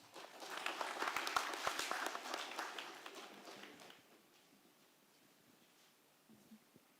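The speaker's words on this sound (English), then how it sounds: "Let's welcome our panel with a big round of applause." Audience applause welcoming a panel at an engineering and architecture event, a faint, dense patter of clapping that swells for a few seconds and then dies away to quiet room noise.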